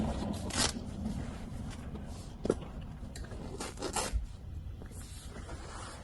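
Close, quiet cutting and scraping at the corners of Toyota Tacoma seat covers, with irregular rasping cuts and rustling of the material and a few sharper snips, no talking.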